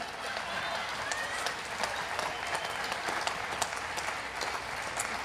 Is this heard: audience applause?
yes